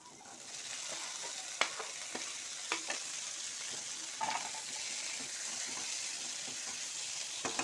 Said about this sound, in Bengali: সবই হালকার উপরে ভেজে নেব। এবারে আলুগুলো দিয়ে দেবো।